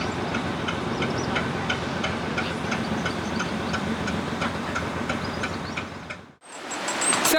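A narrowboat engine ticks over at low revs with a steady, even rhythmic chugging, close and continuous before cutting off abruptly near the end, followed by a brief rising noise.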